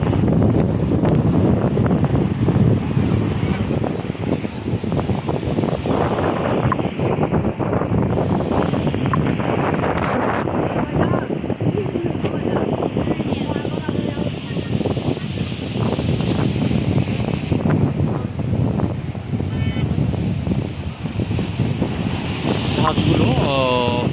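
Steady roar of surf and moving water at Patenga sea beach, with wind buffeting the microphone throughout, and people talking over it.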